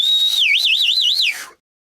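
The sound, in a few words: person whistling to show appreciation at a concert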